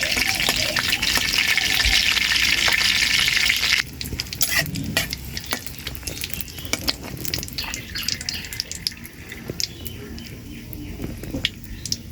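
Potatoes fry in a pan in a village home kitchen, a steady loud sizzle for the first few seconds that then drops to a quieter crackle with scraping stirs and clatter; a voice talks over part of it.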